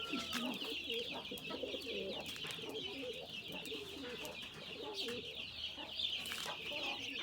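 Chickens cluck and murmur among cooing pigeons in the yard of an unused house, with busy background birdsong and a few light knocks nearby.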